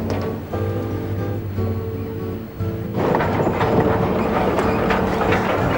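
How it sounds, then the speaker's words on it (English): A train rolls along its tracks with a steady low rumble and hum, then turns noisier and rougher partway through as clatter and rushing sound swell, continuous throughout. "the clickety-clack of the tracks, the creaking of the cars"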